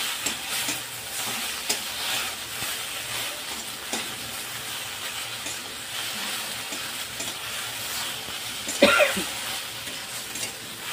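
Okra stirred in a pan with chili powder and salt, a low continuous sizzle with repeated scraping stirs, plus a short cough-like sound near the end.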